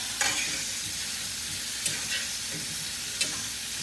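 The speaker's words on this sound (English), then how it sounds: "I'm gonna let the broccoli cook a little bit" Broccoli and shrimp cook in a pan with a close, continuous sizzle and hiss, broken by a few sharp clicks or stirring knocks.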